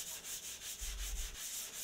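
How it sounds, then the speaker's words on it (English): A wooden board is hand sanded diagonally across the grain with sandpaper, giving soft, rhythmic rasping strokes close by in a quiet room. "Now I sand the board diagonally in the opposite direction of my last pass."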